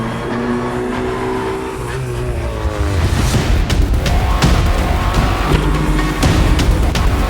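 Volkswagen Polo race car engine, a loud close-up roar with a steady harmonic drone that rises in intensity partway through and stays dense and powerful to the end.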